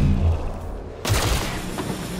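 Gunfire from the video game XCOM: Chimera Squad, a muffled shot with a sharp burst of noise about a second in, followed by a fading rumble, loud and alone.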